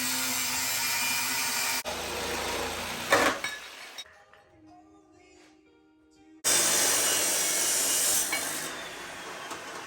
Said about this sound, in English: I'm going to cut this and cut the front of that rock slider and then weld them together.